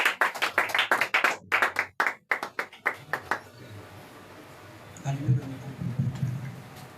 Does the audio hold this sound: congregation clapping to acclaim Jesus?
yes